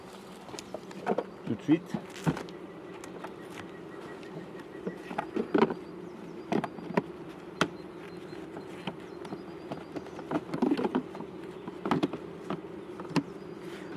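Honeybees buzzing steadily as their hive is moved during transhumance, a constant low hum with insects darting close past, while a person speaks briefly and handling knocks come through.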